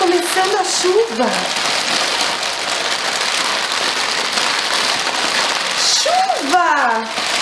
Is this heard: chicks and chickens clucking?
no